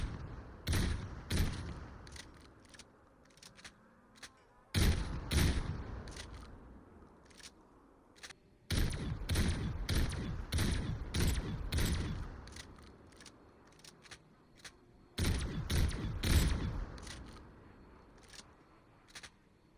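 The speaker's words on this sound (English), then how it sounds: "I'm going to let you hear what this weapon sounds like when it's not pack-a-punched and what it sounds like when it is" The Marshal shotgun pistol in Call of Duty Cold War Zombies fires sharp, loud blasts, each a distinct shot, spaced in several bursts with quiet gaps between them.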